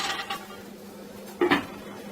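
A metal lid clanks onto a pan of filled pancakes on the stove, one sharp clatter after a softer clink at the start, close and brief in a quiet kitchen.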